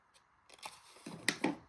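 Scissors cut angled strips off pieces of paper while an envelope is being made, giving several quick, close snips with a crisp papery crunch heard alone in a quiet room.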